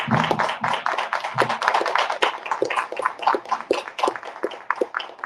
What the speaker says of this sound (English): We can give them one last round of applause.